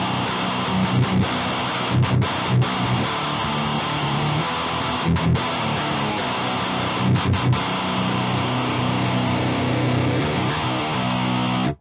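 A heavily distorted electric guitar through a Boss HM-2 style chainsaw distortion plays thick, buzzing chords with brief pauses between strummed phrases, saturated and loud.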